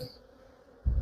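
Honeybees drone around an opened hive during winter feeding, a steady close hum running throughout, with a louder rustling thump at the very end.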